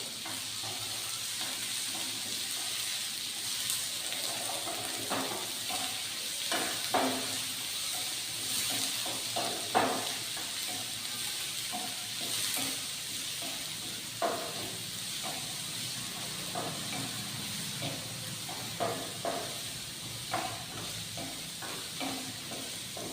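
Onions sizzle steadily in a hot pan for an okra curry, a broad continuous hiss with scattered scraping stirs and occasional pops, close and fairly quiet with no talking.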